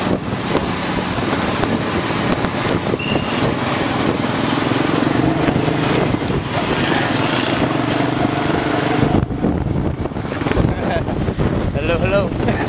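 A motorcycle engine drones steadily with heavy wind buffeting the microphone while riding through Vietnam toward Ho Chi Minh's mausoleum, with voices talking faintly underneath.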